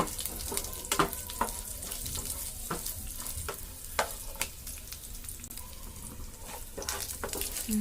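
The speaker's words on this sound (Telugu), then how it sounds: "కరివేపాకు ఎండుమిర్చి వెల్లుల్లిపాయ వేసుకోవాలి వీటిని కూడా ఫ్రై చేసుకోవాలి" Curry leaves, dried red chilies and garlic sizzle and crackle in hot oil, with irregular scraping and tapping from a spoon stirring the pan.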